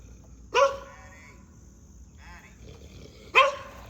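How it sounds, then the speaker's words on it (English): A guard dog gives two sharp, loud barks about three seconds apart, with quiet room noise in between. "She likes being a guard dog."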